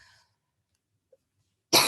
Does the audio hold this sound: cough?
yes